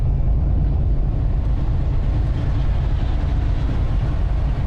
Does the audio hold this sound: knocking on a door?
no